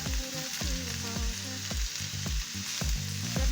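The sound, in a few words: stirring frying vegetables with green capsicum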